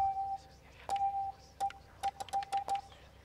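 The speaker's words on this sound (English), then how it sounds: "Oh, this is Morse code." Morse code signal in Layers of Fear 2, a thin steady beeping tone sounding in long and short pulses, first sustained dashes then a quick run of clipped dots, faint over a low hum.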